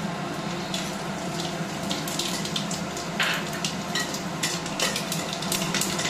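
Dried red chillies, whole cumin, mustard seeds and nigella crackle and spit in hot mustard oil, a dense, steady sizzle with scattered sharp pops close by and no talking.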